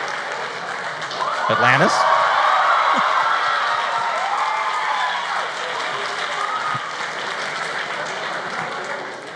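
An audience at an animation festival talk applauds and cheers loudly and steadily, a whoop rising near the start and a speaker's voice breaking in briefly over the sustained clapping.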